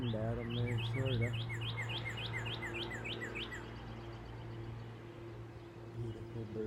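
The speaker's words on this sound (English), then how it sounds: "Beautiful bird." A male songbird perched up on an overhead wire sings a run of bright, repeated chirping phrases for about four seconds, then falls quiet, heard clearly over a low steady hum of morning outdoor ambience.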